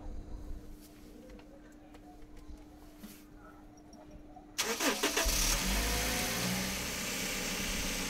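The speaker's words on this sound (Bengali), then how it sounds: "আমরা গাড়িটা স্টার্ট করলাম এবং গাড়িটার যে আরপিএমটাও খুবই সুন্দর।" A lightly used Toyota Hiace Super GL van, Model 16, sits quietly with a faint hum, then the engine cranks and catches partway through and settles into a loud, steady idle.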